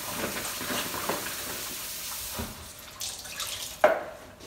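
Tap water runs steadily while vegetables such as squash, chayote and potato are rinsed in a kitchen sink, with a brief louder splash near the end and no voices.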